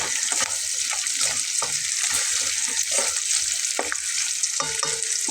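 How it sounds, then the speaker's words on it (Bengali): Spice masala frying in a pan while a spoon stirs it steadily, giving a constant close sizzling hiss broken by soft scraping taps. "অনবরত নেড়ে চেড়ে আরও একটু ভেজে তারপরে তুলে নেব।"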